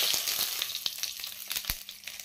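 Cumin seeds and bay leaves sizzling in hot oil, a bright, steady crackling hiss with scattered sharp pops close by, no voices.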